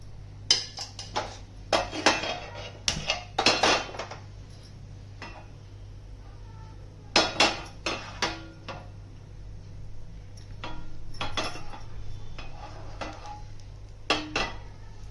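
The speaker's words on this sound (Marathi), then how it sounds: "आता गॅसवरती पॅन ठेवलं, इथे तेल टाकून घेते त्याच्यामध्ये थोडंसं" A pan is set on a gas stove and oil is poured in, with repeated metallic clanks and clinks of cookware and utensils in bursts separated by quieter gaps, close by and without talk.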